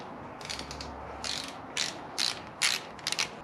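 A hand ratchet tightens small bottom-end bolts on a Toyota 1JZ-GTE engine, giving several short bursts of close, quiet clicking separated by brief pauses, with no talking.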